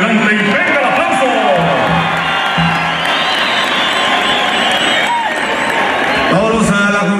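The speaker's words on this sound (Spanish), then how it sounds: "Paso adelante y venga el aplauso." A Mexican rodeo crowd at a charreada in Jalisco roars with loud, continuous cheering, whoops and applause, with an announcer's voice over the top.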